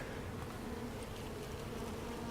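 Honey bees hum in a small, struggling hive being worked by a beekeeper, a steady, dense buzz that holds close and even throughout with no voices.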